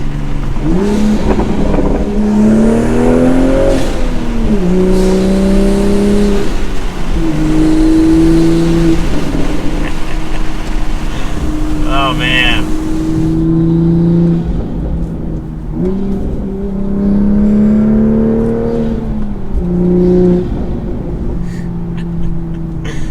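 A Toyota Supra with a catted downpipe, air intake and resonated touring exhaust revs and accelerates repeatedly, its loud engine note climbing and settling in waves, with a brief spoken exclamation over it.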